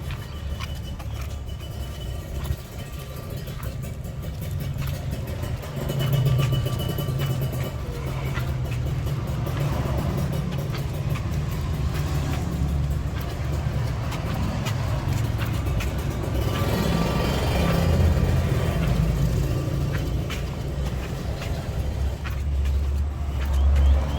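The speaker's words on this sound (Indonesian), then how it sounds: "Rame banget sama motor, agak ngeri." Busy roadside traffic heavy with motorbikes, heard while walking along a main road; a continuous loud rumble of passing engines with no talk.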